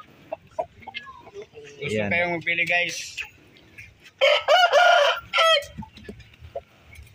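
An aggressive Shamo rooster clucks sharply and lets out a strained crow, close and loud, with someone talking between the bird's bursts.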